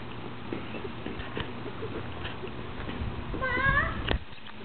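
A kitten gives a short, rising meow near the end, over a busy background of low rumbling noise and scattered clatter.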